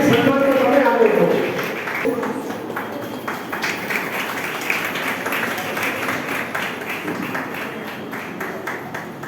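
A crowd claps at a school Independence Day programme in Jamnagar on 15 August 2022. A loud voice opens the moment, then a long, dense patter of applause carries on at moderate volume.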